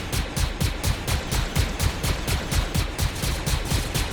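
A shooting video game fires rapid automatic gunfire in a loud, continuous, evenly spaced burst of shots lasting about four seconds, with no talk.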